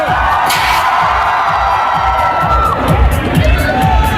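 A loud crowd at a film teaser launch event cheers and shouts continuously, with children's voices and whoops rising above the roar, close and energetic.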